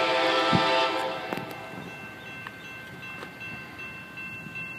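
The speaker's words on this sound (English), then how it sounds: "Looks like an Amtrak." Amtrak passenger train in Macomb, Illinois, moving slowly past: a tonal horn fading early over a low rumble, followed by quieter rolling noise and scattered clanks as it recedes.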